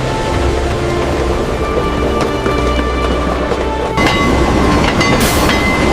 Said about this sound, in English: The sound of steel wheels comes first.